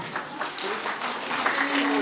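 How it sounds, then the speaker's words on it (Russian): A concert audience gives dense, sustained applause in a hall after a festival performance with an orchestra, an even wash of clapping from many hands, while a presenter's voice carries over it. "ваши аплодисменты"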